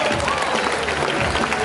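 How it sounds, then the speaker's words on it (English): Brief, dense clapping from an audience at a tiger show, loud and continuous for a moment, with crowd murmur blended in. "Then have a nice big round of applause for Mishka."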